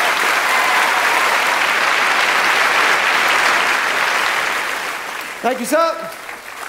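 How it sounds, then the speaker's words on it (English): Loud applause from a stage-show audience welcoming four volunteers, sustained and dense, fading toward the end as a voice speaks briefly over it. "A round of applause for our 4 volunteers."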